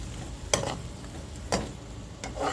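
A utensil stirs black pepper and lemon pepper seasoning together while preparing chicken and shrimp. About three sharp, separate clinks and scrapes sound close against a faint background, with no voices.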